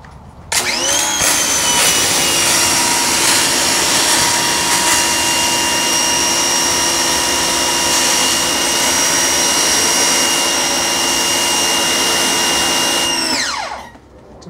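A Ryobi 2000 power washer fitted with its orange spray tip runs in one continuous loud, steady high-pressure hiss and whine for about twelve seconds, then cuts off, with no one talking.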